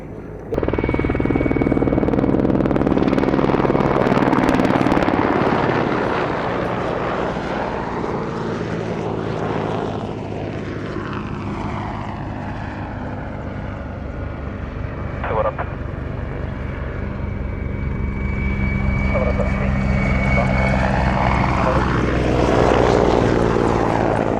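A Mi-8 Hip helicopter manoeuvres over an airfield at an air show, its rotor and turbine roar swelling and fading in long sweeps at a moderate distance while a commentator speaks over it.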